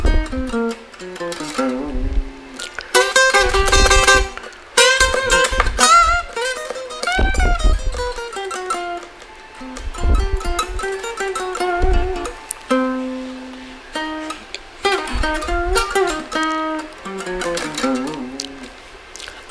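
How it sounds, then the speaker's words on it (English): An electric guitar solo of quick melodic runs and bends over punchy low hits, shifting between busy bursts and brief sustained notes. "what you hear now is guitar solo."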